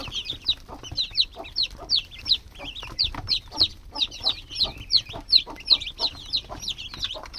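Chickens cluck in a steady, busy rhythm of short repeated calls, fairly close, with a low background murmur underneath.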